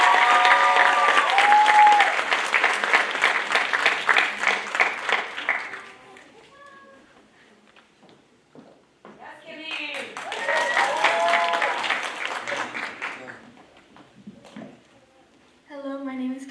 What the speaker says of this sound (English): Let's give a round of applause to this exceptionally young artist.